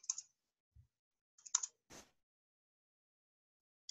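A few sparse computer keyboard key clicks and taps come in short isolated bursts, faint and close, with long silent gaps between them and no voices.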